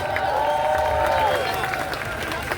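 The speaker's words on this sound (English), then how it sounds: "Let's give those organisers a round of applause." A march crowd in Manchester applauds the organisers outdoors, a dense wash of clapping and crowd noise with voices threaded through the brief burst.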